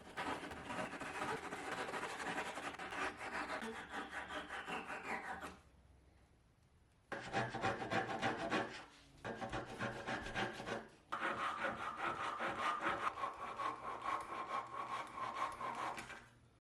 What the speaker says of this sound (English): I could take a flush trim saw, trim off all of the little pieces I used to insert and fix this mistake